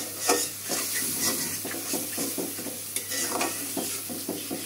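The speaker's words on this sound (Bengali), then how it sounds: "নারিকেলটা দিয়ে ভালো করে কষাই নিচ্ছে।" Shapla stems and shrimp sauté with coconut and onion in a pan, a close steady sizzle broken by rhythmic scraping stirs of a spatula, with no voices.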